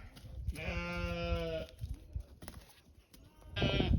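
A sheep gives a long, loud bleat up close, then a second bleat starts after a short pause.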